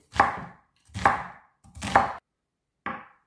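Knife chopping through onion on a cutting board, four distinct thuds spaced under a second apart, the last one softer, close and clear with no talk.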